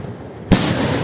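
A firework rocket bursts with one sharp, loud bang midway through, followed by a crackling, hissing tail that lingers against quiet background noise.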